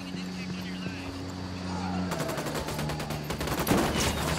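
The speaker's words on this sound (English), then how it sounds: "Opening fire!" Rapid automatic gunfire erupts in a Ghost Recon Wildlands firefight at DJ Perico's home, with dense repeated shot bursts breaking out after a quieter humming stretch and continuing loud to the end.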